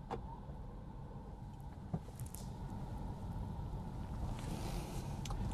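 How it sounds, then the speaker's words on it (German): A Tesla Model 3 Standard Range Plus electric car pulls away from a charging station, a low steady road and motor rumble with a faint hum, gradually growing slightly louder, with no talking. "Wir fahren mal los."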